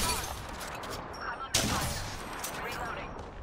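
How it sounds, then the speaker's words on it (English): Gunfire aimed at the player in the video game Apex Legends, several sharp shots and bursts, with a louder crack partway through, over a busy background of game effects. "they're only shooting me, so that's fun"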